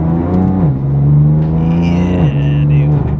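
BMW M2 engine revving up and settling back, a loud close exhaust drone that rises, holds and drops, with barely any burbles between the revs.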